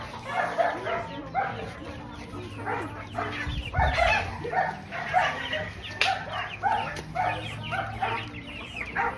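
Laying hens on a chicken farm cluck and squawk in a busy, overlapping chorus, with nearby calls rising and falling and a low bark-like cry mixed in.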